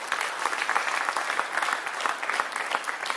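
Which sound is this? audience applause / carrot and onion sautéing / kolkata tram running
audience applause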